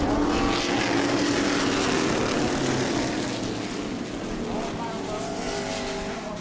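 Race cars roaring off at the start of a lap at New Smyrna Speedway, a dense, loud, sustained engine din from a pack of cars, with a commentator talking over it.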